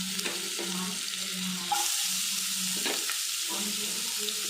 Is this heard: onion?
yes